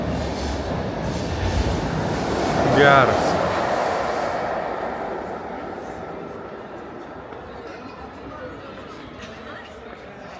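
A train passes in a mountain valley by a river in Italy, its rumble and a brief wheel squeal swelling then fading into the distance while a person speaks a short remark.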